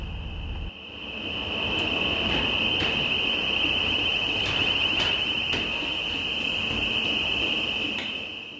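Engine room alarm aboard the ship M/V Steve Irwin rings continuously as a loud, steady high-pitched tone, starting abruptly and sustained for several seconds over machinery hum and occasional clanks.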